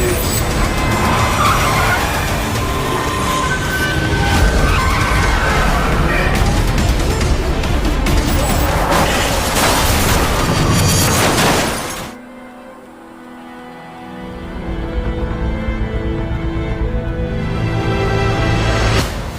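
A car crash in a film scene: a loud, dense roar of skidding and crunching impact noise lasts several seconds, then drops suddenly to a quiet lull before low rumbling returns.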